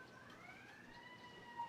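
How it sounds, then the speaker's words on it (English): A distant emergency siren wails in the city background, its faint wavering tone drifting steadily and rising gradually, alone without talk. "I don't know if you guys can hear the siren in the background."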